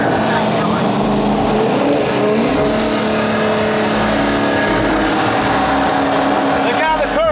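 A Dodge Hellcat Charger drives on a track, its engine giving a loud, continuous roar with rising and falling revs close by, and talk running underneath.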